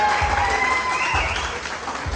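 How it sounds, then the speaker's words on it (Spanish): A crowd at a birthday party in Monclova, Mexico, claps for a music group in sustained applause, dense and steady, with faint tones ringing underneath. "También un gran aplauso para el grupo musical"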